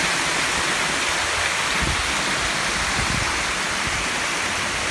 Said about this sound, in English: It's got 4 waterfalls coming down, 2 combined in the middle.